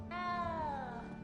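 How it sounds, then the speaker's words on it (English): A single close meow from a small cat in Hogwarts Legacy, a clear drawn-out tonal cry that slides downward in pitch over about a second, heard alone over a quiet game ambience. "You don't need to be frightened, little cat."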